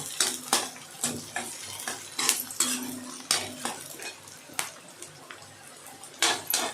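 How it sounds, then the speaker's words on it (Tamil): Chopped shallots and green chilies being sautéed in a pan for a Tamil-style fish curry, with a utensil clinking and scraping against the metal in irregular strokes over a faint low sizzle, fairly close and quiet. "வெங்காயம் நல்லா வதங்கட்டும்."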